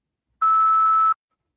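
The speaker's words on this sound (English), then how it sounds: "Please state your name at the beep." A single steady electronic beep on a recorded phone line cues the caller to speak, holding one pure tone for under a second before cutting off into silence.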